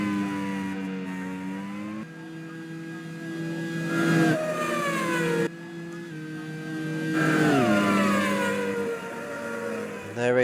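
Race cars battling at Road America in a Grand Prix series race, one passing another for ninth place; loud engine notes rise and then swoop down in pitch as cars sweep by, with brief gaps between passes.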